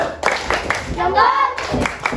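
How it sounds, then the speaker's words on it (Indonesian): Schoolchildren in an Indonesian classroom give a short round of clapping for a presenting group, loud, sharp and close, with a teacher's voice heard over it. "Ya, tepuk tangan"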